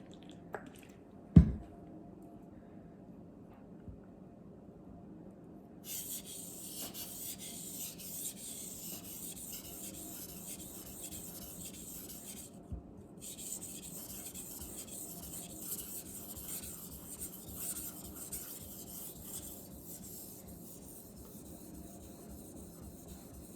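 A Messermeister Meridian Elite knife being sharpened on a stone, with quiet, steady rubbing strokes over a long stretch, marked by one sharp knock near the start.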